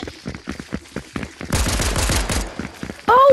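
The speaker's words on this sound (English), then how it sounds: "I'm gonna shoot it." Gunshots in an amateur action film: a run of sharp, closely spaced cracks, then a loud sustained burst of rapid fire, followed by a few scattered shots and a bright whistling tone at the end.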